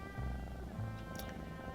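A cat purrs softly in the video game Behind The Frame, a low continuous rumble with faint, fluttering pulses and no other sounds over it.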